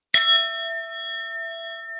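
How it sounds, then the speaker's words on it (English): A single bell struck once, a sharp bright clang that rings on with a long, steady, slowly fading tone, alone in silence. "you ring the bell."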